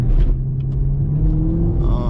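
Chevrolet SS Camaro engine rumbling nearby, a deep, steady low growl that holds at a constant idle-like pitch for a couple of seconds, loud and close.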